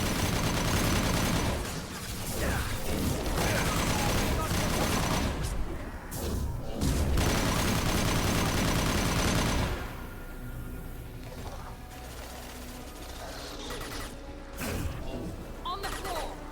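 Heavy gunfire erupts during a firefight in the video game Mass Effect Legendary Edition 2. Dense, loud bursts of shots and crashing impacts sound for about ten seconds, then give way to a lower, steadier rumble of combat noise with occasional sharp hits.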